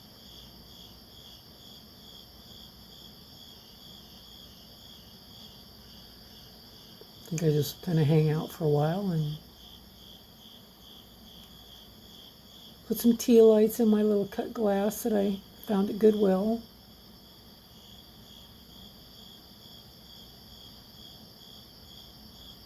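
Steady high-pitched cricket chirping runs throughout at night, with a person speaking softly in two short stretches over it.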